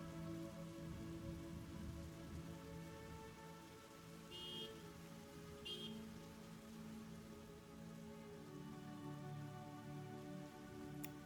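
Steady rain pours onto a surface, a dense continuous patter that stays close and even throughout, with soft tonal background music and no speech.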